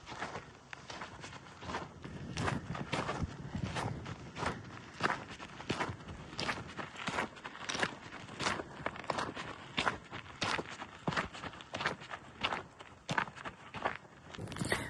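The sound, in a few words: footsteps walking along a desert trail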